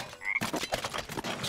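A frog croaks in the LEGO Star Wars video game, a short run of rough, closely spaced croaks that come in loud and near after a brief quieter lead-in with a thin tone.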